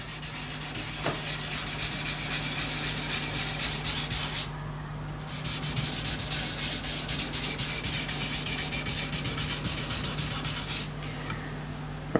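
A rubber charged with pumice and wood fibre is rubbed over a wood surface in steady, rapid back-and-forth strokes, a close scratchy sanding rasp with two brief pauses and a low steady hum beneath.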